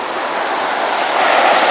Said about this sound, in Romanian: Deci asta e plaja Veleca cu nisip, foarte mișto plaja, apa curată, pură frumoasă.